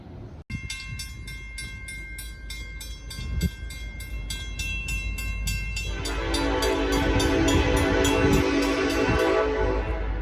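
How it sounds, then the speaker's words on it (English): A westbound Norfolk Southern freight train rolls past with a long horn blast held over the rumble, wheels and cars growing louder and denser toward the end. "Westbound train, Norfolk Southern."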